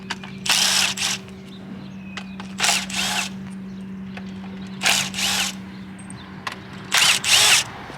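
Power tool, likely a drill or impact gun, run in a garage while working on a circuit-prepped EK Honda Civic hatchback: four loud bursts of about half a second each, separated by pauses over a steady low hum.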